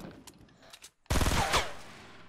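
Fortnite gunfire crackles in a short loud burst of rapid shots after a brief silence, following faint background sounds.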